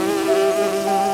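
A bee buzzes in a children's bedtime fable, a steady, close, continuous drone holding one even pitch throughout with no voices over it.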